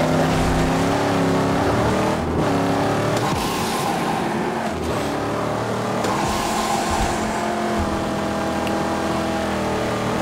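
A car engine drones loud and steady while driving in the Mad Max video game, revving and shifting with occasional bumps and rough surges, with no talk over it.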